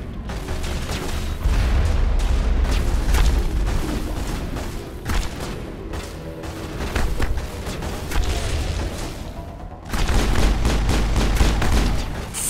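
Dense gunfire and booming blasts from combat in the video game Mass Effect, loud and sustained with bursts of rapid shots throughout, no talking.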